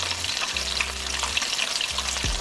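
Mustard-coated fried chicken bubbles in hot oil with a steady, close hiss and a soft crackle that carries on throughout, without much sharp popping.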